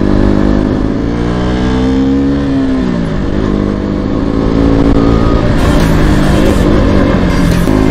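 A KTM RC 200 motorcycle on a mountain road, the Mughal Road near Peer ki Gali, roars loudly and continuously close by, its engine pitch rising and dipping as the rider revs and shifts, with no talking.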